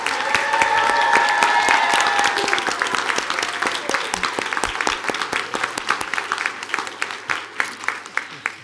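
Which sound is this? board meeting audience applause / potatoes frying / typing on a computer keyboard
board meeting audience applause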